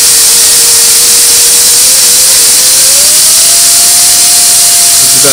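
A micro turbine engine runs at high RPM, a loud, steady jet roar and hiss with a thin whine that slowly rises in pitch throughout.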